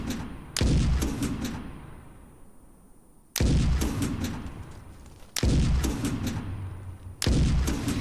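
A tank's main gun firing in a video game, four heavy booming blasts spaced a couple of seconds apart, each followed by a long rumbling decay, with lighter shots in between.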